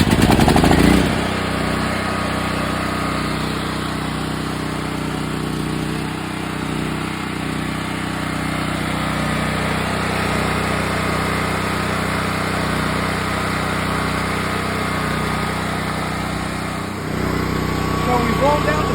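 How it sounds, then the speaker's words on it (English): Standby generator engine started and running during a power outage, a steady loud mechanical drone with a whine, continuous and close under occasional talk. "So we've rolled out the cord, fired up the generator"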